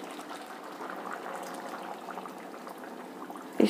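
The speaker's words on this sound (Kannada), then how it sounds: "ಇನ್ನೂ ಸ್ವಲ್ಪ ನೀರು ಆ್ಯಡ್ ಮಾಡ್ತೀನಿ" Water being poured into a pot of cooking mixed-vegetable khichdi with moong dal, a soft continuous liquid rush heard alone, ending in a brief clatter.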